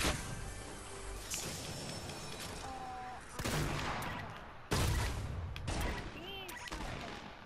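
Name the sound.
minigun firing in Fortnite video game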